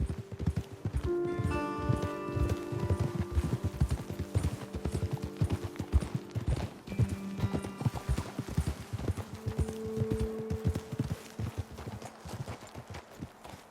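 Horse hooves clop in an uneven, rhythmic pattern on hard ground in the video game Red Dead Redemption 2, fairly close, with a few brief tonal calls mixed in.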